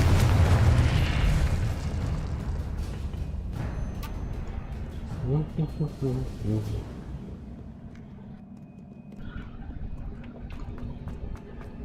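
A Confringo spell explosion in Hogwarts Legacy bursts as a heavy boom at the start, followed by crackling debris and rumbling game effects with music-like tones, fading toward the end.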